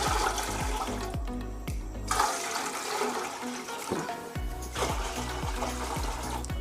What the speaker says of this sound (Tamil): அதில் தண்ணி ஊற்றிக்கிறேன்.